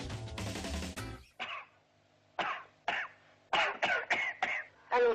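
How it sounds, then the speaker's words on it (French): Repeated coughing and throat clearing, several separate bursts after a brief stretch of louder noise at the start, close and fairly quiet, with no talk. "Pourquoi tu tousses?"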